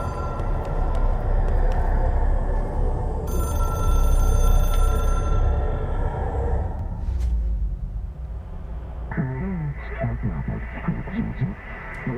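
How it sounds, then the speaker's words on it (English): A telephone rings in the video game Control, sounding over a low hum for several seconds before a voice begins talking near the end. "let's answer the goddamn phone"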